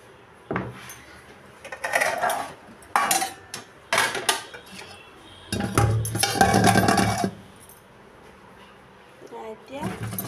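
Metal clatters and knocks as boiled green chilies are tipped from a pot into a metal colander in a home kitchen, several bursts of clanking and sliding with brief pauses, close and fairly loud.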